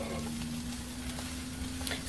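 Ingredients frying in oil in a pan for rice noodles with kale sizzle steadily and closely, with a faint stirring scrape near the end.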